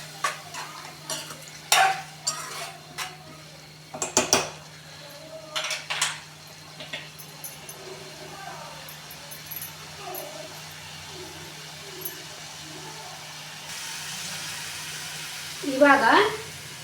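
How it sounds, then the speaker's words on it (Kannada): Salt is stirred into sev tamatar sabji in a pan: a spoon scrapes and clinks against the metal in irregular bursts over a soft sizzle, with a louder scraping flurry near the end. "1 ಸ್ಪೂನ್ ಸಾಲ್ಟ್ ಹಾಕ್ಕೊಂಡು ಒಂದು ಸರಿ ನೀಟಾಗಿ ಮಿಕ್ಸ್ ಮಾಡ್ಕೊಳ್ಳಿ"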